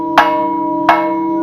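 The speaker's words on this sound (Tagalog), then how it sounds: "Ring the bell. Ding ding ding the bell." Two bright metallic strikes of a bell rung at a wishing spot in Bohol, each followed by a sustained ringing tone that carries on between the strikes, close and clear with no talk.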